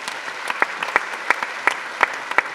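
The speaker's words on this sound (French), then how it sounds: "on peut encore une fois l'applaudir s'il vous plaît" A small audience at a startup pitch event claps in a steady rhythmic pattern, the individual claps distinct and regular rather than a dense roar.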